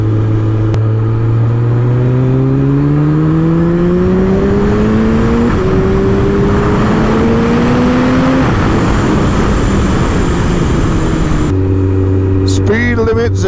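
A supercharged Kawasaki ZZR1400 motorcycle ridden on the road in third gear near Silverstone, its engine droning loudly and climbing smoothly in pitch through repeated rises, with heavy wind rush; a rider talks over it.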